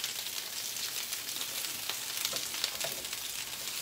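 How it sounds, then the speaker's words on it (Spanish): A piece of onion fries in a pan alongside steak being cooked in green chile, giving a steady, close sizzle with small crackles throughout. "Vamos a poner un pedazo de cebolla. Para que se guise ahí también."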